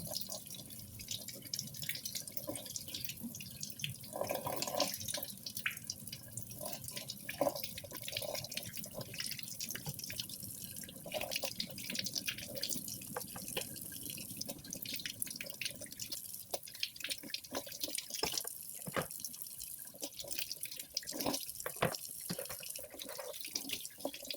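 Tap water runs steadily into a sink while chicken eggs are rinsed by hand, a continuous splashing stream with small irregular knocks and drips from the eggs being handled, close and without talk.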